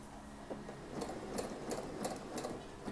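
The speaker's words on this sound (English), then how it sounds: "let's do regular zigzag and set the stitch length to 4 and the stitch closeness to 1" Sewing machine stitching a regular zigzag seam on a wedding dress skirt, a steady low mechanical whir with rhythmic needle ticks recurring about every third of a second, fairly quiet and close, no talking.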